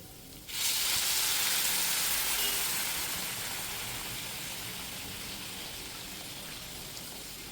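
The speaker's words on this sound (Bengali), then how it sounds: "আমি গরম জল দিচ্ছি" Hot water poured onto flat beans and potatoes frying in a pan bursts into a loud, steady sizzling hiss that slowly eases as it settles, with no talking.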